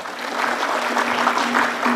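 Studio audience at a quiz show semifinal claps briefly and steadily, a moderate patter of applause over a faint electrical hum.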